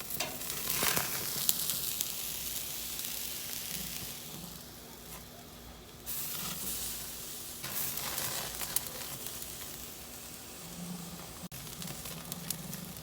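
Meat sears on the sear burner of an Aspire by Hestan grill, giving a continuous close sizzling hiss. The hiss swells and eases a few times over several seconds, with no speech heard.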